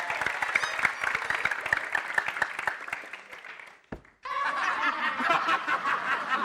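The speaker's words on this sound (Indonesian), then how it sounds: "Tepuk tangan lu dong." Studio audience claps and breaks into scattered chuckles and snickers at an Indonesian comedy show, the clapping steady and fairly close, cut by a brief gap before a denser burst of applause and laughter.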